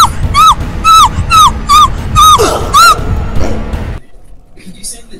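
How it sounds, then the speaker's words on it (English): A dog in Bendy and the Ink Machine yelps in a rapid run of sharp, high, whimpering cries, loud and close over game background noise, then breaks off into near quiet. "Did you step on a dog's foot"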